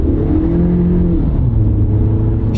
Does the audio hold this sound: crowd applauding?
no